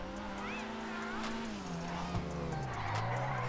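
Karin Futo car drifting in GTA Online, with a droning exhaust note that sags and rises alongside tire squeal, steady and close for a few seconds; a voice comments briefly over it.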